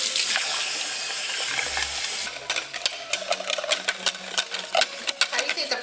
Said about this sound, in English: We're going to rinse out this bowl.